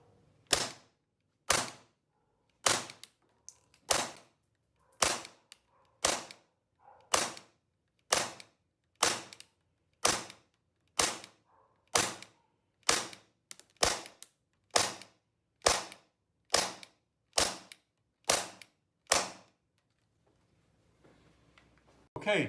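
A gas airsoft gun with its original magazine fires about twenty sharp, evenly spaced shots close up, each a crisp pop with a short tail, and nothing but quiet between them.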